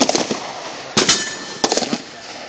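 Sharp, loud blasts from an exploding target hit by rounds from a Bearcat II rifle outdoors at a range; several bangs and cracks in quick succession, with two big detonations standing out, no talk.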